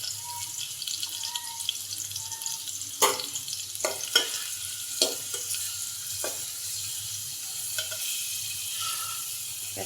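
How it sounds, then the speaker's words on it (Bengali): Onions frying in a pot for a Bangladeshi dundul (sponge gourd) and shrimp curry, giving a soft steady sizzle with a few sharp clinks and scrapes of a stirring utensil against the pot. "পেঁয়াজটা লাল করে ভেজে নিব।"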